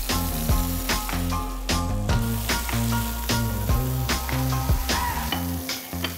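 Beef steak searing in a hot pan, a dense steady sizzle running throughout with repeated sharp crackles and pops over a constant low background hum.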